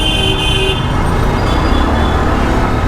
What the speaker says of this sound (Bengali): তুমি আমাকে এত হর্ন দিয়ে লাভটা কি?